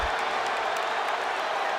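An arena crowd in WWE 2K25 roars and applauds steadily through a Raw ambulance match, a dense, loud wall of cheering with no distinct voices.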